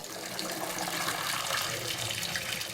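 Water runs steadily from a household tap in a plantation home, a close continuous hiss and splash with no pauses.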